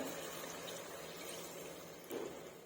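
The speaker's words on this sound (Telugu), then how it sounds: "ఇప్పుడు కొద్దిగా వాటర్ వేసుకుందాము" Water poured into mutton curry in a pressure cooker makes a faint, continuous pouring wash with a brief louder splash near the end.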